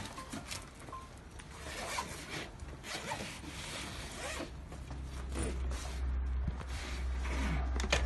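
A zipper on a bag is pulled open in a shop, heard as faint, repeated short rasping pulls and rubbing, with quiet handling noises and a low hum in the background.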